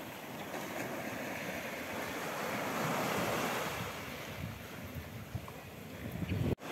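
Surf washing onto Prainha beach in Portimão, Algarve, a steady, close rush of breaking waves with wind buffeting the microphone throughout, swelling slightly midway, with no voices.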